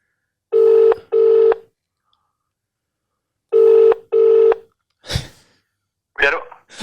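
Ringback tone on an outgoing phone call: two double-burst rings separated by silence, followed by a couple of soft breathy sounds nearby.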